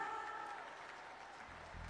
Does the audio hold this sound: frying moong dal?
no